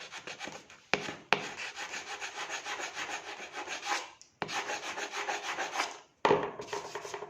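Steady rasping strokes of a hand scraper on the wooden deck of a kayak, close and continuous, broken by a few sharp knocks and brief pauses.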